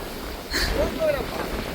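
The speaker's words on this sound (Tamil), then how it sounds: "காற்று பலமாக அடிக்குது" Strong wind at the seashore after a storm in Jaffna, a steady close rumble buffeting the microphone, with a voice speaking over it.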